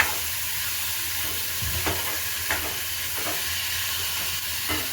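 Spices, onion, chilies and tomatoes crackle and sizzle steadily in hot oil as a tempering for dal, with soft intermittent stirring knocks over the continuous hiss.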